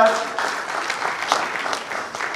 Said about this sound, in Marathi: या उभयतांचं आपण खरं तर टाळ्या वाजवून अभिनंदन करूया